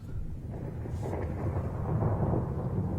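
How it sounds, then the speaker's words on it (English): Rumbling thunder in an interactive story game, a low sustained roll that swells slightly and continues steadily throughout, with no speech over it. "Ooh. Lightning."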